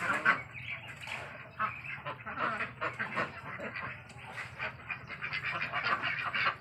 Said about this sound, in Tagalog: Yung mga kulay brown ay yan yung itik Pinas. So pinaparami dito sa LDL Farm para paitlugin.